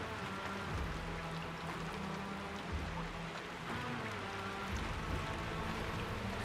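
Rain falls in a video game as a faint, even wash of patter and hiss that holds steady throughout without voices.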